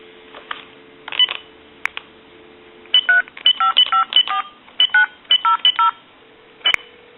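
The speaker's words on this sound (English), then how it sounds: "And I will make a call with another telephone." Touch-tone dialing on a Stromberg Carlson 12-button telephone: a quick series of distinct beeping tones, some spaced, others in rapid clusters, over a faint steady line hum.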